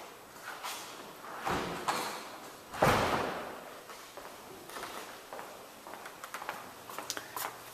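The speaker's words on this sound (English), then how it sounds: "I'll go back the way I came so I can close the doors." House doors being closed while walking back from a back patio: a few scattered thuds and knocks, one sharper bang near the middle, with light shuffling steps in a quiet indoor space.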